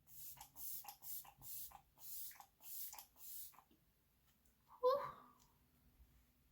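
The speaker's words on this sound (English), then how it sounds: "I'm just gonna use my Flower Beauty Seal a Deal Long Lasting Setting Spray in the matte finish" Flower Beauty Seal a Deal Long Lasting Setting Spray, matte finish, gives a single close, short hissing spritz after several seconds of soft shuffling and rustling.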